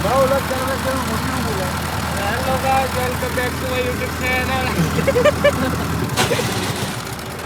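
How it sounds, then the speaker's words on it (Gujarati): A tractor engine runs on a farm with a steady low rumble throughout, while people talk over it. "અત્યારે ટ્રેક્ટર લઈને નીકળ્યા."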